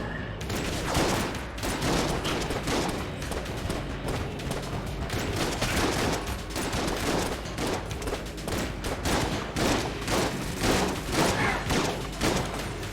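Repeated heavy shotgun-style blasts from the shotgun shell combo gun in Enter the Gungeon, dense overlapping bursts with thuds and impacts, loud and continuous throughout.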